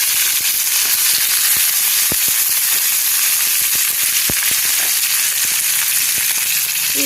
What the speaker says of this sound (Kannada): ಈಗ ಒಂದು ಬಾಣಲಿಗೆ 1-2 ಸ್ಪೂನಷ್ಟು ಎಣ್ಣೆ ಹಾಕ್ಕೊಂಡು ಸ್ವಲ್ಪ ಸಾಸಿವೆ, ಈಗ ಬೇಯಿಸಿಟ್ಕೊಂಡಿರೋ ಗೋರಿಕಾಯಿನ ಹಾಕ್ಕೋಬೇಕು.